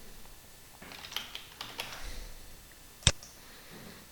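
Soft keystrokes tap on a computer keyboard while a profile name is entered, a short uneven burst of quiet clicks followed by one sharper, louder key press, heard close in a quiet room.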